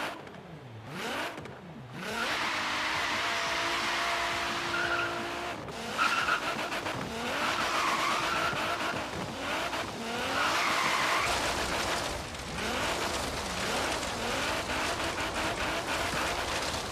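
A loud engine from a 1000 HP 240SX drift car in Forza Horizon 3 revs up and down repeatedly while tires squeal and skid through long stretches, a continuous roaring run of racing car sounds.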